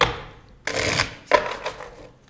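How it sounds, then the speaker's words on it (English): Tarot cards being shuffled by hand in a few quick riffling bursts, close and crisp, with short pauses between each pass. "Last shuffle there."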